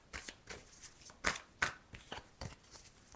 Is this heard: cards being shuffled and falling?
yes